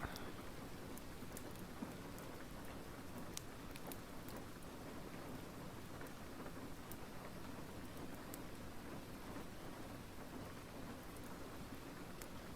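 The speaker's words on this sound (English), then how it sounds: "It's that rain that's getting me." Steady rain pours down, hitting hard, with faint thunder rumbling now and then beneath the constant dense hiss of the downpour.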